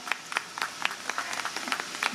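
A small audience at a Hindi poetry gathering (kavi sammelan) in Unnao claps, sparse and uneven, with distinct separate hand claps rather than a full roar, moderately near.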